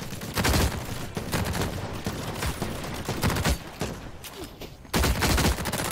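Dense, loud gunfire in The Cycle Frontier, a sci-fi PvP shooter, with rapid overlapping shots and sharp bursts running almost continuously.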